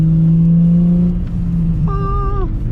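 Nissan 350Z cruising at night, a steady low engine drone filling the cabin, with a brief rising whine near the end.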